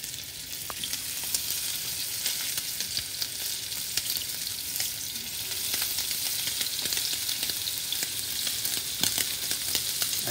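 Salted scallops sear in a hot pan with a constant, even sizzle and fine crackle, no voices, holding steady for about ten seconds.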